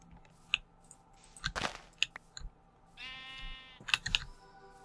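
One clear sheep bleat from Minecraft, slightly synthetic like a game sound, rises among scattered clicks and taps of keyboard typing.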